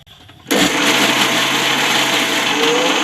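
A kitchen mixer grinder blends sambar spice paste, switching on abruptly after a moment of quiet and then running as a loud, steady whirring grind to the end.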